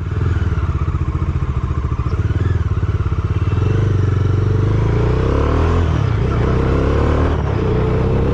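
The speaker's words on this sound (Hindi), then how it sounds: "गाड़ी का इंजन साउंड और एक्सेलरेशन का इनिशियल पुश कितना अमेजिंग लग रहा है।" A 2021 Bajaj Dominar 400 BS6 motorcycle engine pulls away and accelerates on a city ride, a loud close throbbing exhaust note rising in pitch with steady pulsing, no talk over it.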